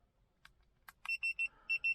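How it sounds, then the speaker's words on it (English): A wireless tire pressure monitor fitted to a turbo Corolla gives a series of five or six short, evenly spaced electronic beeps, close and clear, after a couple of faint clicks. "The beeping, it keeps saying that there's something under pressure"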